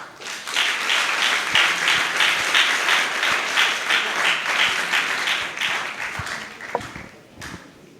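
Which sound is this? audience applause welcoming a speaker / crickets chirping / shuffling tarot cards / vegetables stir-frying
audience applause welcoming a speaker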